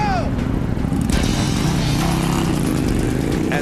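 An engine revs hard as Jamie opens the throttle to unspool a rope line, a loud, sustained motor drone with a rising pitch, heard beneath someone talking.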